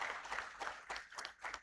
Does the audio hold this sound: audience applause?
yes